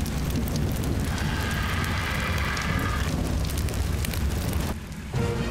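Rainfall in the survival video game ARK Survival Ascended, a dense, continuous hiss of rain with low rumbling underneath, loud and steady throughout, dipping briefly near the end.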